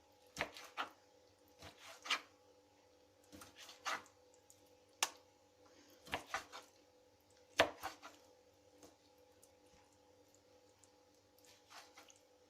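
A knife cutting chicken breast on a board in a home kitchen: a series of sharp, close, irregular chops and squishy cuts spread over several seconds, with quiet pauses between bursts and a faint steady hum beneath.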